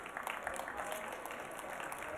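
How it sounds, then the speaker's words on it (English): A faint, steady patter of audience clapping at a tech demo event after the Jitterbit presentation, distant and thin, lasting only a couple of seconds. "everyone give a round of applause for Jitterbit."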